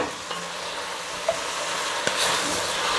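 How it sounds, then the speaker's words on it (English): Onions go into a hot pan with beef and juices for Egyptian kabab halla, making a steady close sizzle and crackle with a few soft stirring knocks. "the onions go in"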